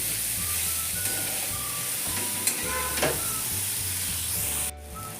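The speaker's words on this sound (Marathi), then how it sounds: "त्यामुळे चांगल्या 2-3 मिनिट परतून घ्यायच्या आहेत." Mango pieces with turmeric sautéed in a pan give a continuous close sizzle, broken by a couple of faint spatula scrapes and taps near the middle, and no one speaks.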